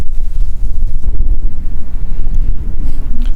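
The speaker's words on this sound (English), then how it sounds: "Really windy." Strong wind buffets the microphone aboard a small fishing boat on open water, a loud continuous low roar with gusting surges and no voices.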